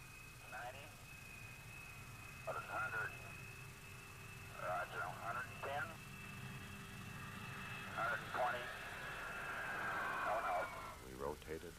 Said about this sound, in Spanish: Giramos en el momento preciso en que debíamos hacerlo y despegamos tan maravillosamente como es posible hacerlo.